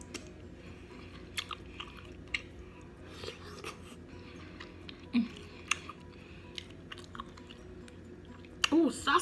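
Close, wet chewing of large boiled shrimp from a seafood boil, with soft crunchy bites recurring irregularly and faint mouth sounds between them.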